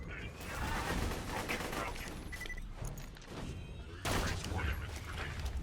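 Rapid gunfire from the Rapier gun in Borderlands 2, a dense, continuous run of close shots mixed with crackling impacts and game effects, with no pause across the whole stretch.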